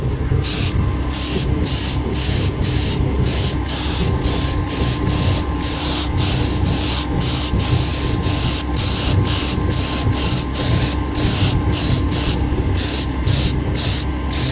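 Boron nitride release coating lubricant is sprayed onto a die for a lens blank in loud, continuous bursts of hiss, pulsing in a steady rhythm of short repeated pumps throughout.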